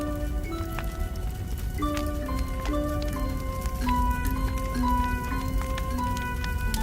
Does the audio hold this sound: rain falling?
yes